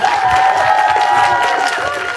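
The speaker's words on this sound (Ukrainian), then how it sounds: "Ще раз ваші оплески та мої дітям." A crowd claps and cheers loudly at an awards ceremony, with a dense wash of applause and raised voices filling the room.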